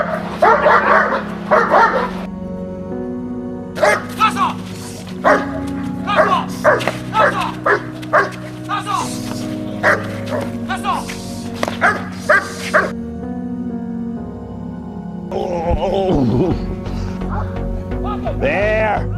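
A guard dog barks in sharp bursts and whimpers during defensive-pressure training, loud and close, with a trainer's voice talking between and over the barks.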